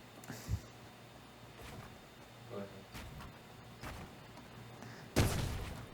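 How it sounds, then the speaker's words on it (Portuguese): Gunfire in a Fortnite match cracks out as a few scattered shots, one near and loud at the end and others fainter and farther, mixed with game noise and someone talking. "Esse tiro doeu."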